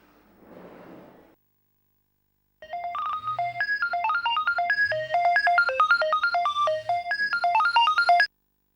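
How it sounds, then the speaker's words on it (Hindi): A phone ringtone plays a bright, rapid electronic melody in repeated bursts after a brief soft noise and a pause, clear and close, with no talk. "फलक ने फौरन सितारा को फोन किया।"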